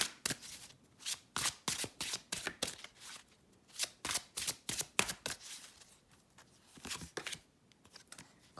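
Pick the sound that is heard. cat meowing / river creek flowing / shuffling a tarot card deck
shuffling a tarot card deck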